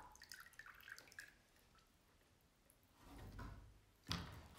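Water drips and trickles from a bundle of soaked basket-weaving spokes lifted out and drained, giving faint scattered drops early on, then a louder splashy run of draining water near the end, with a sharp knock or splash at the close.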